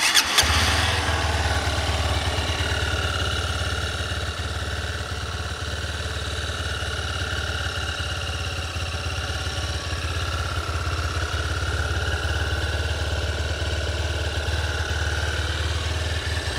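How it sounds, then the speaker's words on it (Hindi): A Honda Hornet 2.0 motorcycle starts with a sharp catch and then settles into a close, steady idle that drones evenly for the rest of the time, with no one talking. "अभी दोनों बाइक को स्टार्ट करते हैं स्टार्ट करके मैं आप लोगों को एक बार एग्जॉस्ट नोट सुना देता हूँ"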